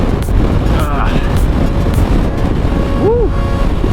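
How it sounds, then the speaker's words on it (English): Strong wind roaring across the microphone during a mountain blizzard with snow coming over a high pass, loud, steady and buffeting, with a faint voice underneath. "And this wind hit. And now there's like snow."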